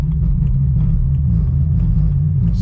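A BMW 335i with the N54 engine roars under a full-throttle pull, a loud, steady low rumble close to the car throughout.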